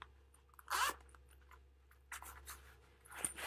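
A zipper on a crossbody purse's back pocket pulled open in a couple of short bursts, close and fairly quiet, with rustling handling noise between the pulls.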